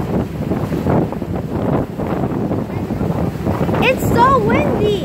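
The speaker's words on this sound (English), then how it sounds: "It's so windy." Wind roars across the deck of a ferry boat heading to Savannah, Georgia, a loud steady buffeting on the microphone, with a brief warbling tone near the end.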